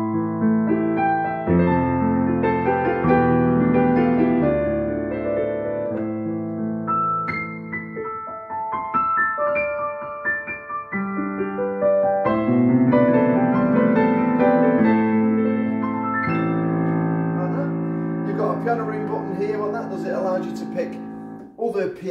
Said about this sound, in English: This is the CFX Concert Gram from Yamaha,